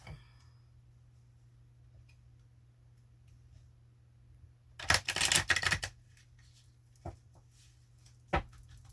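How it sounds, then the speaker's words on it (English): Quiet room hum, then about a second of rapid riffling as a deck of tarot cards is shuffled, followed by a couple of soft taps. "I've already shuffled each of these decks 3 times, but I'll shuffle them again on camera"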